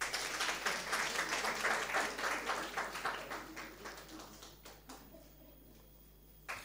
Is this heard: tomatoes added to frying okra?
no